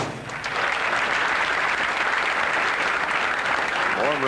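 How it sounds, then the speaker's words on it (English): Sustained applause from a crowd at a 1982 professional bowling tournament, steady and dense throughout, with a voice beginning to speak over it near the end. "Warm round of applause for Mike Aulby."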